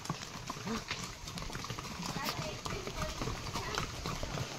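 Horse hooves clip-clop steadily on a path at Matheran hill station, a continuous close rhythm of hoofbeats under people talking.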